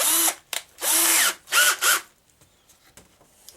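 A power drill works up through a series of bits while drilling a deer skull for a European taxidermy mount. Three short, loud whirring bursts come in quick succession, followed by near silence.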